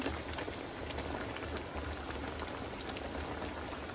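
A pot of shrimp and vegetable curry boils steadily, a dense, even bubbling hiss heard close with no voices.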